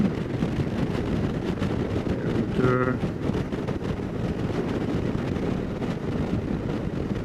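A Suzuki V-Strom 650 motorcycle cruises Highway 1 south of Carmel, California, its buffeting wind roar and engine rumble holding steady and loud throughout, with a brief faint tonal sound partway through.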